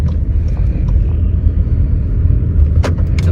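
A 2016 Peugeot RCZ with a 1.6 petrol engine turning right while driving, a steady low road rumble and engine drone heard from inside the cabin, with a few light ticks near the end.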